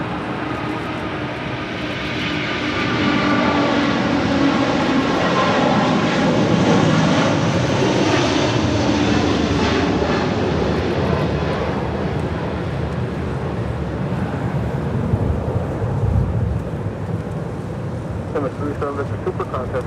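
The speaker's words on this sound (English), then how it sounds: "That is Emirates Flight 216 departing to Dubai on the A380." An Emirates Airbus A380 takes off from LAX, bound for Dubai, its engines a loud, sustained roar that swells, holds steady and slowly fades as the jet climbs away.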